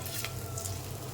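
Soft, steady sizzle of onion, garlic and ginger frying in oil, faint and continuous with a low background hum, no talking.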